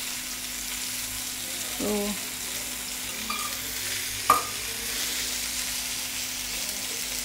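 Lady fish frying in oil over medium to low heat, a continuous crackling sizzle with a few brief utensil clinks and one sharp knock; a voice speaks a single short word.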